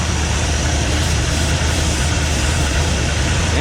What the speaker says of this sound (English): That is the exhaust hitting the bottom of the car. It's rattling.